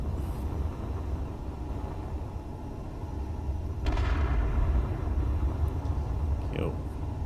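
A deep booming explosion in the video game Space Engineers, a sudden low rumbling blast midway that swells over steady in-game background noise and lingers as a heavy roar.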